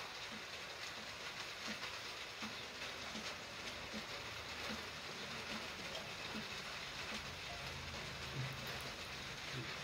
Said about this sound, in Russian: Совсем легкий дождик.